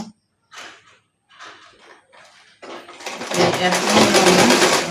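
A sewing machine stitching the side seam of pleated pyjamas starts after some talk and runs loudly and continuously up close for the last couple of seconds.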